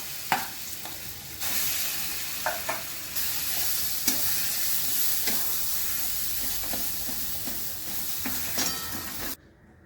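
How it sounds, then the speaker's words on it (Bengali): Elephant foot yam and spiced lentil paste stirred in hot oil, with a steady broadband sizzle broken by repeated scraping and stirring knocks throughout, no talking. "এবার তেলে এই ওল আর এই ডালটা একটু নেড়ে নিচ্ছি।"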